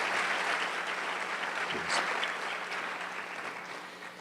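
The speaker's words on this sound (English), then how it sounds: "a hand of applause" A crowd applauds steadily, a dense wash of clapping that gradually fades over a few seconds.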